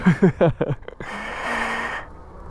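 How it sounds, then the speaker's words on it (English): Heavy breathing of a rider pedaling a Himiway Cruiser ebike uphill, a few loud, close, rhythmic gasping breaths, then a long rushing exhale. "So sorry for the heavy breathing."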